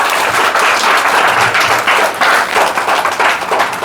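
A school audience claps loudly for teachers, a dense, sustained burst of applause from many hands that holds strong for several seconds with slight swells.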